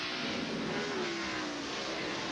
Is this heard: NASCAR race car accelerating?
yes